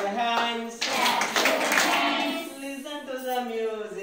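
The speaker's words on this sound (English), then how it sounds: "clap your hands" Children at an Anganwadi preschool clap their hands in a quick flurry of soft slaps, mixed in with sung voices of a nursery rhyme throughout.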